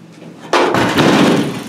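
A single sharp slam of a car door, close and loud, after a brief quieter rustle.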